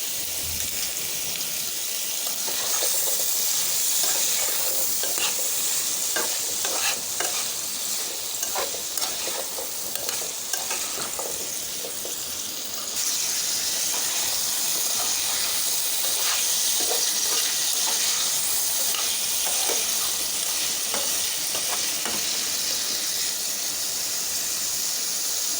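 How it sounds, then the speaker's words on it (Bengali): Papaya and potato pieces frying in oil in a pan with turmeric and salt, a loud continuous sizzle punctuated by frequent scraping stirs, steady throughout with no talking. "প্যানের মধ্যে দিয়ে দিচ্ছি তেল, দিয়ে দিচ্ছি পেঁপে, দিয়ে দিচ্ছি আলু"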